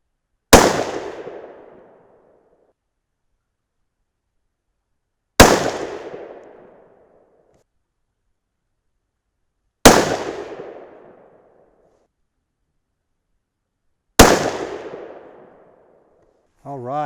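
Four sharp 6 PPC rifle shots firing 68gr Bart's Ultra bullets over N133 powder, each a loud crack with a decaying tail, spaced roughly four to five seconds apart with silence between.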